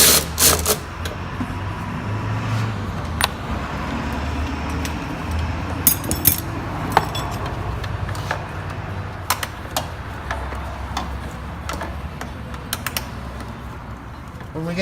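A ratchet with a 13 mm socket on a 12-inch extension backing out the main air box bolt on a Porsche 996, rapid clicking bursts and creaks, up close with some background workshop noise.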